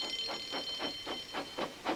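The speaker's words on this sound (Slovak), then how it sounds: "O chvíľu zaznel poplach." An alarm ringing at a railway, a steady run of rapid, evenly spaced high-pitched pulses with a sustained tone, moderately loud and alone.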